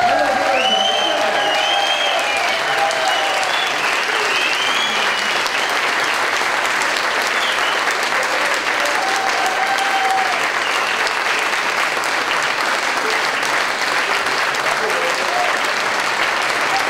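Sustained audience applause following a song at a bluegrass workshop concert, dense steady clapping from a crowd, loud and continuous, with a few cheers and whistles early on.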